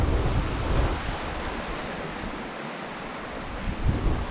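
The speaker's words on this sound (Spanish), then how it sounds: "vean este chorro tan bueno, esa caída de agua" Steady broadband roar of water pouring down a river fall, a continuous rushing wash that fills the clip at constant level, with no voices.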